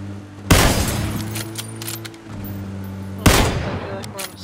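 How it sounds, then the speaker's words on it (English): Gunfire in the PUBG battle royale game: two loud, close bursts of shots, the second about three seconds after the first, each trailing off into a rattling echo over a low steady drone. "there's a lot of bullets going over in the southwest area"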